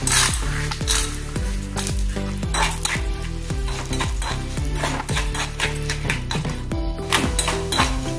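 Roasted chana dal sizzles loudly as it drops into hot oil and is stirred, a steady crackling fry with clinks of the spoon against the pan and no voices.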